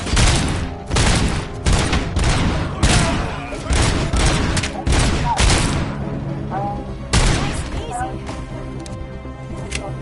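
Bursts of gunfire from Call of Duty Black Ops 4 come in loud, rapid volleys, repeated clusters of close shots that give way to quieter scattered fire near the end.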